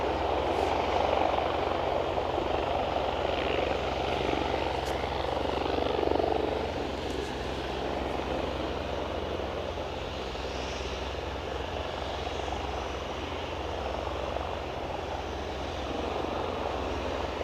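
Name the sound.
helicopter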